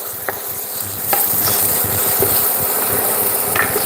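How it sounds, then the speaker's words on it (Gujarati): Figs stirring and roasting in ghee for sugar-free date and fig balls, a steady close sizzle with scraping stirs of a spoon against the pan, no talking. "સૌથી પહેલાં આપણે અંજીરાની અંદર એડ કરી દીધા છે ઘીમાં અને આને આપણે ઘીમાં સહેજ શેકી લઈશું"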